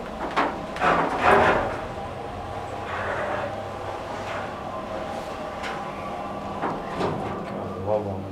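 A Schindler 330A hydraulic elevator with a basic metal cab runs, giving steady mechanical hum with clunks, rattles and sliding-door noises, while people talk nearby.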